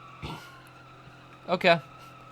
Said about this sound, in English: I just locked the wheels up